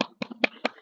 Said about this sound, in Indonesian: mari kita kasih tepuk tangan untuk teman kita di kelompok 4